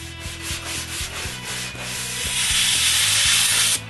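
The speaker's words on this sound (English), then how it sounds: "The sharp corners are sanded by hand." Hand sanding the sharp corners of a wooden frame, a steady close scratchy rubbing with rhythmic back-and-forth strokes, continuous and fairly loud with no voices.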